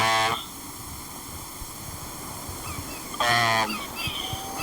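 Geese honk in two loud bursts, one at the start and another about three seconds later, over a low, steady background hum.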